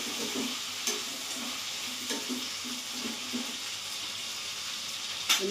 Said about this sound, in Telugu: కొంచెం ఫ్రై అయితే బాగుంటుంది